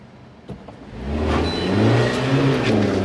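Manual car pulling away as the clutch is let out to the biting point on a hill, the engine rising from idle into a steady revving whir that holds for a couple of seconds, close and fairly loud.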